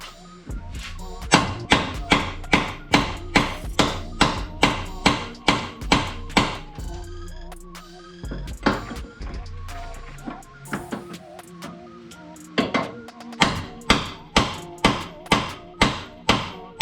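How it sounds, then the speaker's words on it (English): Heavy blows from a bigger hammer ring out on a metal tool while repairing a BMW E46, in rapid, rhythmic bursts, with a brief break of scraping and lighter knocks before the pounding picks up again. "One more try with the bigger hammer."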